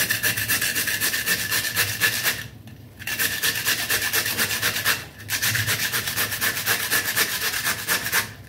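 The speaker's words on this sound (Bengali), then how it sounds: "আর এখন শসাটাও এইভাবে একটু গ্রেট করে নেব।" A cucumber rubbed on a hand grater for a sandwich makes a continuous, close rasping scrape, broken by two brief pauses.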